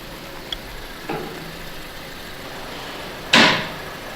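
A car door shuts with a loud, close slam near the end, after a softer thump earlier, over a faint engine idle inside a cold auto repair shop.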